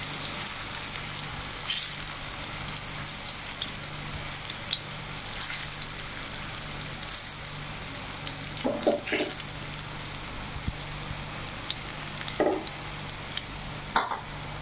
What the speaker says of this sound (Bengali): এখন চাল কুমড়োগুলো ভেজে নেবে।